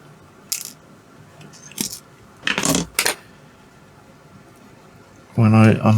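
Small laptop screws taken from an Acer motherboard drop into a little container, giving a few sharp metallic clicks and a brief rattle before a louder clatter near the end, close and fairly crisp.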